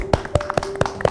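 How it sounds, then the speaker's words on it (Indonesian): Children clap their hands in a few sharp, separate claps spaced unevenly, close and clear against a quiet room. "Kita tepuk tangan dulu ya."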